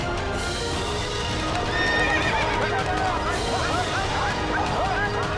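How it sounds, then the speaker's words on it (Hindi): An agitated horse in a historical Mewar court drama neighs and whinnies repeatedly in a rising, shaky series, with hoof clatter and a busy background of people and other animal noise throughout. "हुकुम, अश्व बिफर गया है।"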